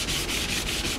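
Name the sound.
sanding wooden door rails with sandpaper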